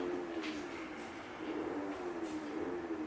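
A motor scooter ridden nearby gives off a faint, steady engine drone whose pitch rises and falls slightly, heard alone at a distance.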